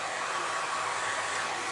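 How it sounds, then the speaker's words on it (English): A blow dryer runs steadily on braided hair, a close, loud, constant airy whoosh with no talking. "take a blow dryer and kind of put them up. Just kind of blow dry it to speed up the process."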